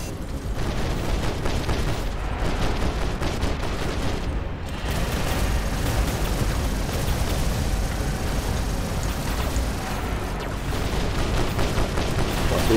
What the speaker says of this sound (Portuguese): Tiro espacial